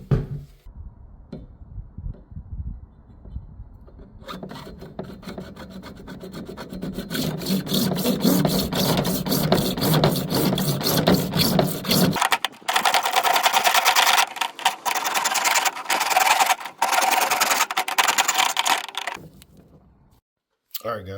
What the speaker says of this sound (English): this cut I am going to make with a hacksaw